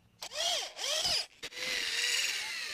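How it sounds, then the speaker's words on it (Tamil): A power drill bores a hole into a square iron pipe in short whining bursts, the motor pitch swelling and dropping twice before a longer steady run, close and fairly loud. "இப்போ இந்த ஸ்கொயர் பைப்பில் இந்த இடத்துக்கு நேரம் ஹோல் வந்து ஒன்று போட போகிறோம்."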